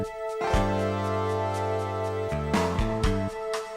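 A short synthesized jingle of bright tonal notes from Final Fantasy VIII, a sustained chord shifting to a few quick stepped notes near the end, clean and electronic.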